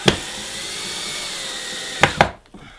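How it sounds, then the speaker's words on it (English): A power drill whines continuously as it drives screws into a wooden base, with a few sharp knocks and clicks near the end before it cuts off. "just gonna throw a couple screws in here"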